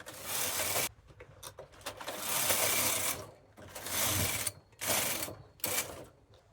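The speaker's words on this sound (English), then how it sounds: "continue knitting" A Brother knitting machine knits tuck stitches as the carriage is pushed back and forth in repeated rasping, clattering sweeps, about five passes separated by brief quiet pauses, close and fairly loud.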